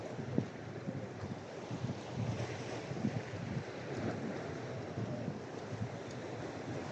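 Strong wind buffets the microphone in a continuous rough roar while fishing at the New Corniche in Dammam, with gusts rising and falling and water sloshing faintly beneath.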